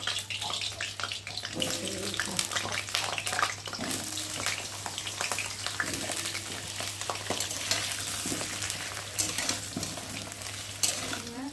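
Potato pieces for a chicken dish frying in hot oil give a steady, close, dense sizzle and crackle that runs unbroken throughout, with occasional stirring scrapes and no talking.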